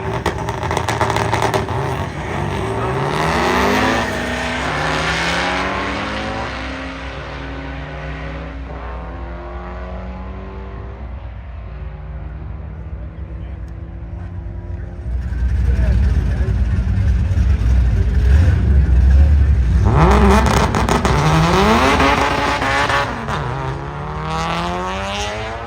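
Drag racing cars at Byron Illinois Dragway, including a 1989 Jeep Comanche pickup and a turbocharged 2016 Ford Fiesta, roar loudly at launch, fade, then surge again with rising engine sweeps and heavy low rumble.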